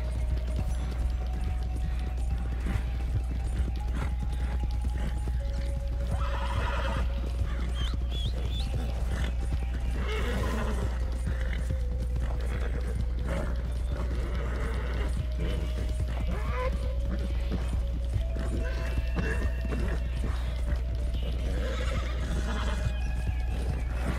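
Horse neighing and whinnying with scattered clip-clop of hooves in Red Dead Redemption 2, several whinnies over a steady low engine-like rumble and busy game ambience, continuing for the full stretch.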